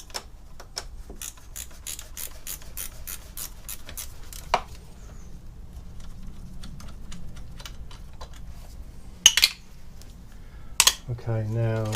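Ratcheting on the bolts of the EGR valve pipe bracket of a Ford Mondeo Mk3 TDCi, 10mm bolt, quick clicking bursts up close, then quieter work and a few sharp metallic knocks near the end.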